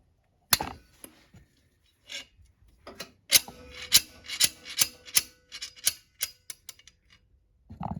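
A file rasps against the metal shaft of a 1996-2013 Polaris Sportsman 500 during a water pump seal replacement, a series of short, close scraping strokes in an uneven rhythm with brief pauses between them.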